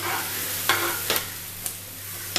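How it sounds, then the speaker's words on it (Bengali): Chopped onion and capsicum sizzle steadily in a hot pan, with a few sharp scrapes and stirs of a spatula punctuating the even frying hiss. "পেঁয়াজটা হালকা ভাজা ভাজা হবে, ততক্ষণ পর্যন্ত আমাকে একটু ওয়েট করতে হবে। এর মধ্যেই আমি দিয়ে দিচ্ছি এখনই ক্যাপসিকাম কুচি।"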